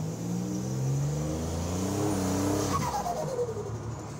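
A 1987 Buick Grand National pulls away under throttle with a steady, loud engine drone whose pitch climbs smoothly as it accelerates, with no voices over it.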